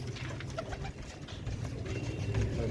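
Pigeons, Kasni Kamangar breed, coo in low, throaty rolling calls over a steady background, with a few faint chirps mixed in; no one speaks.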